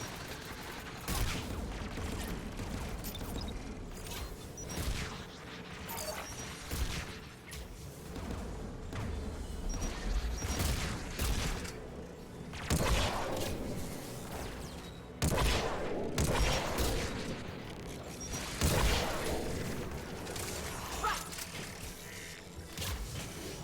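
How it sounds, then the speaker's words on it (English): Geth anti-aircraft guns firing in the video game Mass Effect 3, dense rapid volleys of heavy gunfire with mechanical clanks and whooshes, continuous and loud, no talking. "The Geth anti-aircraft guns are up ahead."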